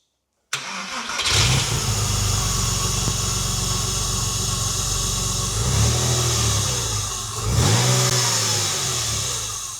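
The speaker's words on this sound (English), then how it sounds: "let's fire it up. Let's hear what it should sound like when it's running on all 6 cylinders" Porsche flat-six after over-rev damage repair cranks and fires abruptly, settling into a loud, close, steady idle with a couple of throttle blips raising the revs.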